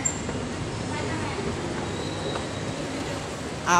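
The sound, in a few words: LRT train at Anonas Station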